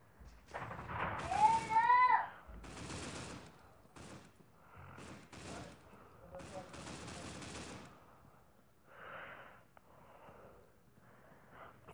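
Bursts of gunfire in the mobile shooter game Critical Ops crack in short volleys, with sharp repeated shots spaced unevenly over several seconds.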